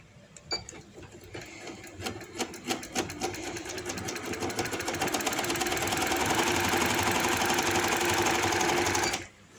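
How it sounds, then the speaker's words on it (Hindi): A sewing machine stitching elastic into the waistband of loose palazzo trousers runs in a fast, even mechanical chatter, starting with a few separate stitches, then accelerating into a continuous close whir before stopping abruptly. "इसी तरह थोड़ा थोड़ा पकड़ते जाएं और इसको इस तरह स्टिच करते जाएं।"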